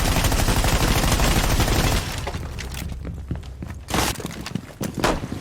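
Gunfire in Rainbow Six Siege opens with a dense, loud burst of rapid shots for about two seconds, then gives way to scattered single cracks and impacts over quieter game ambience.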